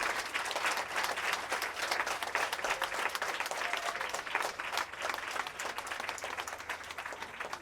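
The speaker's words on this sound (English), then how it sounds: "And now give a big hand of applause to your teachers." Sustained, loud applause from a large crowd at a donation event at a primary school in Grafton, Sierra Leone, fills the whole stretch, a dense and even wash of many hands clapping.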